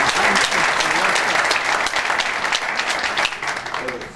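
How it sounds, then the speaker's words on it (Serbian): An audience at a book promotion breaks into sustained, fairly loud applause, many hands clapping in a dense wash that fades slightly toward the end, with a voice speaking over it. "Hvala vam za aplauz"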